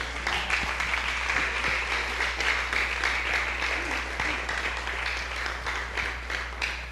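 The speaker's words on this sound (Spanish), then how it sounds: "brindo un aplauso a Dios en esta noche" Church congregation clapping steadily through a night service, a dense sustained wash of applause with a few voices mixed in and a low steady hum beneath.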